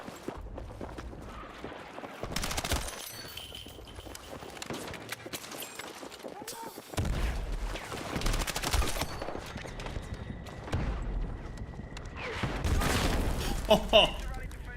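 Bursts of gunfire from a Battlefield 6 Obliteration match, several loud rapid volleys separated by quieter stretches, with distant shots and movement sounds in between.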